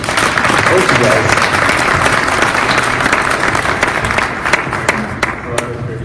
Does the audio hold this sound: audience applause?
yes